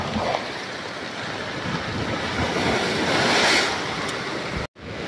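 Strong surf and wind from a stormy sea during Typhoon Ramil at Lipata, with heavy rain and floodwater, roaring as a continuous loud wash with gusty microphone buffeting and a sudden brief dropout near the end.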